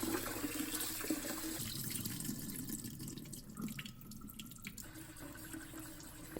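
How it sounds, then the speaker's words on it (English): Glutinous rice (chapsal) is gently washed by hand in water in a sink, with soft continuous splashing and swishing and faint running water, quiet and close, no talk. "just gently wash it"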